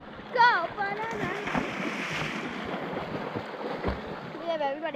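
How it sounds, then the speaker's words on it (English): On a beach, people run and splash into ocean water, a continuous rush of splashing and surf with wind noise on the microphone, while voices shout and talk over it. "We have everybody running into the water."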